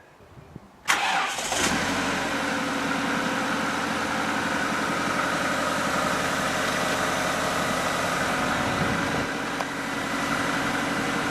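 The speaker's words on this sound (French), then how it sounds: "On va faire tourner un petit peu le moteur." A car engine cranks and catches almost at once during an oil change, then settles into a steady, even idle that runs close and loud to the end.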